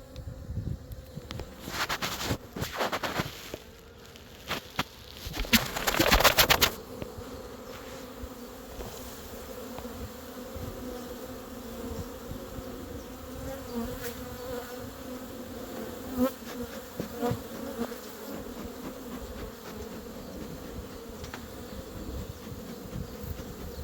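Honeybees buzzing steadily around hive frames being handled during beekeeping, a soft continuous hum with louder rustling and crackling bursts in the first several seconds, close and alone without talk.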